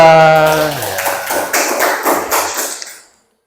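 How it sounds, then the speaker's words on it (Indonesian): Audience applause for a presenting group in a classroom session, a loud burst of many hands clapping that fades out toward the end. "Tepuk tangan untuk kelompok 2"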